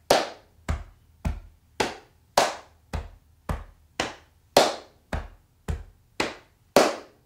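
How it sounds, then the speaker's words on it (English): Body percussion played alone: a clap, chest taps and thigh slaps, about a dozen sharp close hits in a steady, even rhythm with clean gaps between them. "So it goes clap, chest, chest, thigh, thigh."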